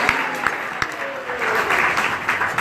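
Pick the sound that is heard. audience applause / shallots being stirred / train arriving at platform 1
audience applause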